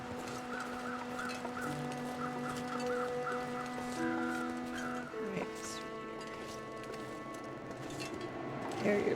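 Birds call in The Long Dark, a survival game, with repeated honking, clucking notes over a steady tonal background, while a person talks over them.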